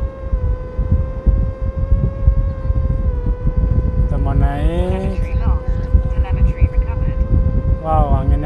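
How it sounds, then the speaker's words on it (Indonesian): Strong wind roars steadily across the Mount Bromo volcanic crater rim in Indonesia, a loud broadband rush throughout with a steady tonal hum above it and talk in the second half. "gede banget anginnya"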